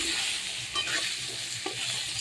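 Fish being stirred in its frying oil with salt and turmeric, a continuous close sizzle broken by a few soft scraping stirs.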